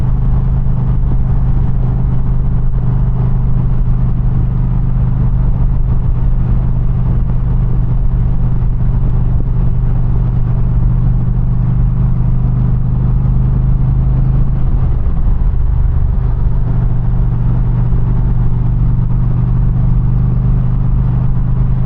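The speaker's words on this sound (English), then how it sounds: "There you can hear the exhaust a little bit." An Indian Challenger motorcycle with a Freedom Performance exhaust rides along, a steady, loud low rumble of the engine and exhaust continuing throughout with a slight shift in tone partway.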